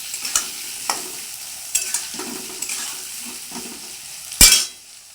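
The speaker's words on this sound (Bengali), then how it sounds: "এবার আলুটা একটু লাল লাল করে ভাজবো" Potatoes frying in a pan until reddish brown, with a steady soft sizzle broken by occasional clinks of a spatula or utensil against the pan and one louder scrape near the end.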